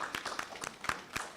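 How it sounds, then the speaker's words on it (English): Sparse, scattered clapping from a small audience at a school board meeting for students, with distinct individual claps in a loose rhythm, fairly faint. "Let's give our students another round of applause."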